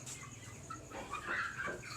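Chickens and roosters at a poultry farm, with soft scattered clucks and calls over a low background hum, fairly faint and close.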